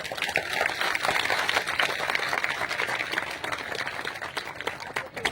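An audience claps loudly and continuously at a Hindi-language public address for the Samrat Ashok Club, a dense, rattling burst of many hands that holds steady before thinning slightly near the end.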